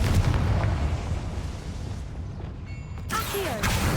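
Fiery spell blast in the Hogwarts Legacy video game, a loud booming burst with rumbling low end, followed by a second sharp magical impact near the end.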